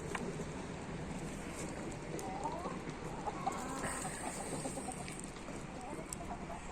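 Chickens and roosters out of their coop for the first time give scattered clucks and calls over a steady outdoor background, with no clear crowing standing out.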